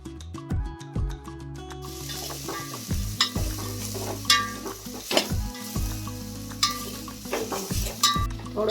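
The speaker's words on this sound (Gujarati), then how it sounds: "હવે આપણે આમાં ખજૂરને પણ થોડી વાર ચડવા દેશું" Chopped dates roasting in ghee in a pan for coconut-date laddoo, a steady sizzle broken by repeated scraping stirs of a spoon against the metal, close and moderately loud with no talking.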